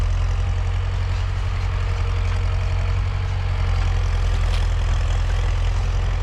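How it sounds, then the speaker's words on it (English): Farm tractors hauling sugarcane run with a loud, constant low engine rumble that never lets up, with no voices over it. "the tractors are really making noise, a lot of noise."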